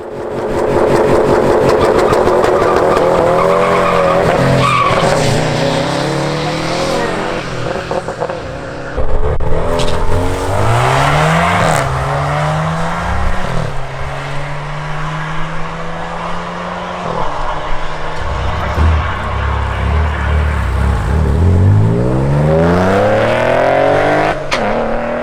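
A Dodge Charger Scat Pack at a drag strip, its engine loud and close throughout, rising through revs in sweeping climbs, dropping between shifts and roaring again as it launches and pulls.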